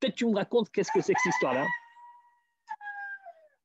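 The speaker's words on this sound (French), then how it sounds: "Vous entendez le coq là?" A neighbour's rooster crows at a French evening gathering: a long rising-then-falling cock-a-doodle-doo comes in right after a man's speech ends, followed by a second, fainter crow.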